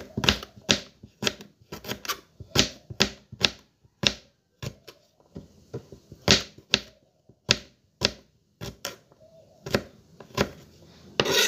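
A knife chops ginger on a cutting board in a steady series of sharp, close knocks, around two per second, with no talking over them.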